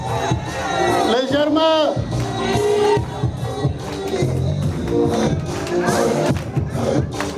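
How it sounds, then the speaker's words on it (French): Crowd at a Nigerien community celebration for women and children cheers and applauds continuously, a loud, dense roar of voices and clapping with a person speaking over it. "On applaudit très fort."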